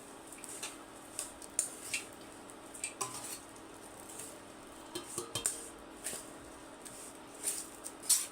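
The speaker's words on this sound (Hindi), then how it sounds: "तो अब हम ये सारा एक बार डाल करके सारा भून देते हैं ताकि सारा फिर से गर्म हो जाए एक बार" Edible gum (gond) and its powder are roasted in ghee in a pan, with a metal spatula scraping and clinking against the pan in an uneven rhythm over a faint sizzle. No voices are heard.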